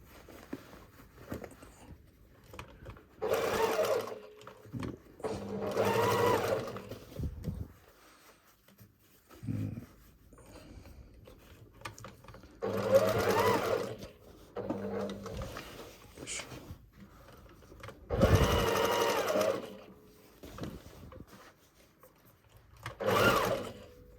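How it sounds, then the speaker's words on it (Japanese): Sewing machine stitching around a hole in a jeans pocket lining, running in several bursts of rapid mechanical whirring and needle chatter separated by short pauses, close and alone. "まずは、穴の外周に沿って、2周ほどステッチをかけてきます。"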